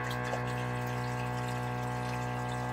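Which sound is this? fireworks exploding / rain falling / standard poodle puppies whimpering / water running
water running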